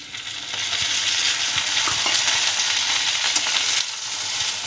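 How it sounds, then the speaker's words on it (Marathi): Okra sizzles and crackles in oil while being stirred and tossed in a pan over a high flame, a loud, steady frying hiss with occasional scraping knocks, no talking. "आपल्याला ही सारखी हलवून परतून घ्यायची चांगली, म्हणजे पूर्ण भेंडी खरपूस भाजून घ्यायची आपल्याला"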